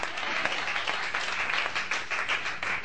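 A church congregation applauds to acclaim Jesus, a dense and steady wash of many hands clapping at moderate loudness throughout.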